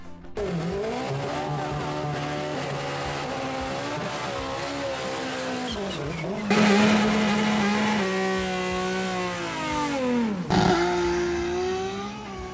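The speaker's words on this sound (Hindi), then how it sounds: "दिखाते हैं आपको कुछ ड्रैग रेसेस और उनके स्कोर्स कि कितने सेकंड में वो किस स्पीड पे पहुंची।" Drag race cars launch and accelerate hard at a Japanese drag strip, loud engines climbing through gear shifts with sudden resets as each new run starts, dominating the scene without any talk.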